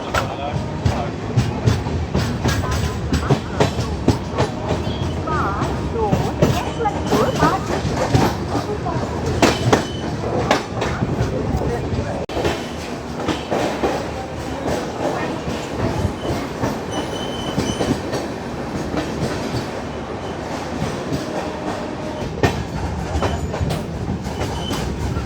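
The 12612 Garib Rath express from Hazrat Nizamuddin to Chennai runs steadily past Chandrapur, with a continuous loud rumble and rhythmic clickety-clack of wheels over rail joints throughout, plus occasional faint squeals.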